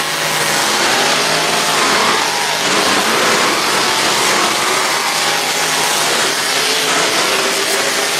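Monster truck engines roar loudly and continuously at a Monster Jam stadium show in Cardiff in 2016, with open-exhaust zoomies fitted, a dense sustained rumble of revving with no speech.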